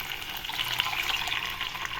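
Curd mixed with water pours steadily into a pan with a continuous splashing gush, filling the short stretch at a moderate level.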